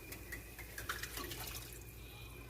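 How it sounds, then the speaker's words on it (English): Water is poured into a pan after stir frying seasoned meat for sloppy joes, a faint, steady liquid splash and trickle with a few small drips and sizzle over a low background hum. "So put in some water after the stir fry."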